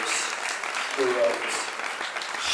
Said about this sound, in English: I want to give a special round of applause to the women in the room, because they are heroes.